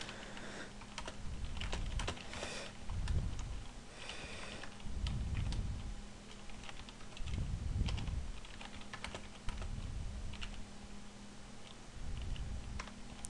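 Code being typed on a computer keyboard in continuous clicking runs for over ten seconds, close, over a low recurring hum and steady background noise, without speech.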